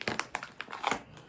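Close, quiet crinkling of plastic packaging on a natural deodorant in several short rustling bursts as it is pulled and handled.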